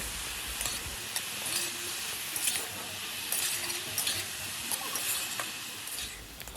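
Ginger and cumin paste with coriander powder stirred and sautéed in a pan, giving a soft, steady sizzle with light spatula scrapes and occasional clinks, fairly quiet and close.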